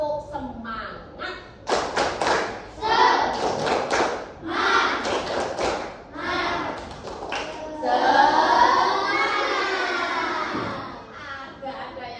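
A group performs the tepuk semangat clapping chant in a classroom lesson, with voices chanting over loud, close rhythmic claps and thumps in uneven bursts, then a longer sung stretch.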